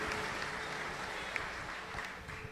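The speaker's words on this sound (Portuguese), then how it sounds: "Esses nossos irmãos, uma calorosa salva de palmas." A church crowd applauds warmly during a Marian month evening service at a parish church in Canindé. The clapping is a steady, dense wash that holds fairly level for the whole stretch, with no voices over it.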